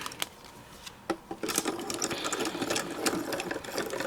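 A manual die-cutting machine runs paper and a metal die through its rollers, giving a steady grinding, clicking mechanical whir with a few sharp clicks before it, close and moderately loud with no talking.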